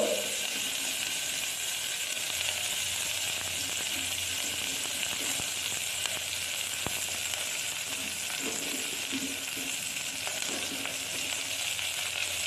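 Chopped carrot and onion sizzling steadily in a pan of hot oil with cardamom, cloves and bay leaves, a continuous close frying hiss with faint clinks and stirring.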